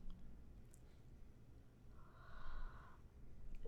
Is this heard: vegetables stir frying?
no